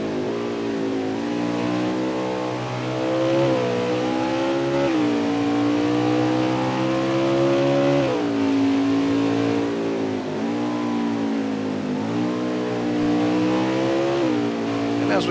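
An Xfinity stock car engine revs at the Mid-Ohio road course. Its loud, close drone rises and falls repeatedly as the car accelerates and lifts between corners, with no one talking.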